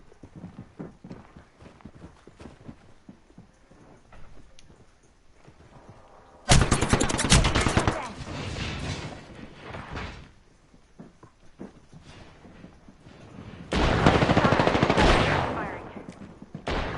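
Gunfire from a shooter video game: two loud, dense bursts of rapid shots, the first lasting about three and a half seconds and the second about two and a half, with quieter clicks and faint game noise between them.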